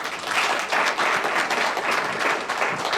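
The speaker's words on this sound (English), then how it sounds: "How about one more round of applause for all these kids?" A room claps steadily at a Chandler school district governing board business meeting, a full, close round of applause from the audience with no speech over it.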